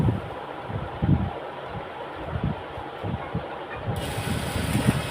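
A sewing machine clatters rhythmically along the side seam of a kameez, a close, steady mechanical ticking and whirring that grows slightly brighter near the end.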